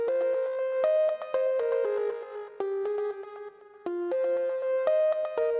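Synth lead patch built in Ableton's Operator plays a bright, bell-like melodic line of quick plucked notes with short sustains, fairly loud and up front, with no voices.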